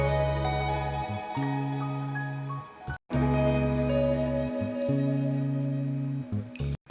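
A guitar trill with delay, transposed up five semitones, for an Erykah Badu-style beat: two phrases of quickly alternating sustained notes with echoing tails, separated by a brief gap and played alone.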